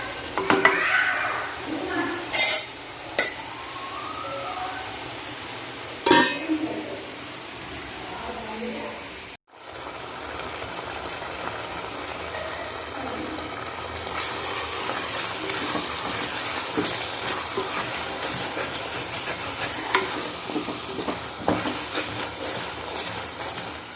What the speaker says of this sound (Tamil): அப்பப்போ இந்த மாதிரி ஓப்பன் பண்ணி இந்த மாதிரி கிளறி விட்டுக்கலாம்